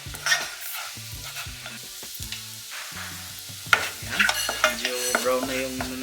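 Butter sizzles over medium heat in a pan as garlic is added and stirred for chicken macaroni sopas, a steady close frying crackle with scraping stirs and louder bursts of sizzle toward the end.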